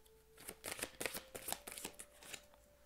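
Tarot cards are shuffled and drawn in a quick series of soft flicks and slaps, close but quiet, over a faint steady hum, with no voice.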